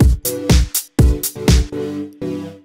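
Synth chord patch from Waves Element, brightened by a treble-boosting plugin, plays short staccato chord stabs in a choppy rhythm, loud and crisp with no talking.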